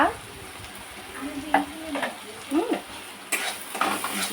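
Spices stirred into a hot pan with turmeric, coriander, cumin and Kashmiri chilli, a spoon scraping in short strokes over a soft sizzle, with a few clinks near the end.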